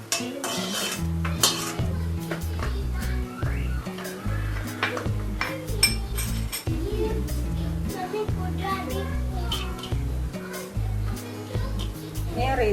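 Cashew nuts dropped into a pan and stirred while cooking vattayappam. A metal spoon clinks and scrapes steadily against the pan, with a continuous music bed underneath.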